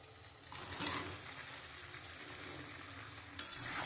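Chicken pieces hit a pan of spices frying for chilli chicken, bringing a soft steady sizzle with a couple of brief scraping stirs at the start and end, quiet and close, with no speech.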